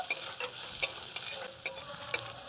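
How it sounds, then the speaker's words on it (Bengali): Chopped green chilies being stirred in a frying pan produce a soft sizzle broken by several sharp spatula scrapes and taps, spaced roughly every half second. "আমি এখানে অল্প পরিমাণে কাঁচা লঙ্কা কুচি দিয়ে দিই হালকা নাড়িয়ে নেব"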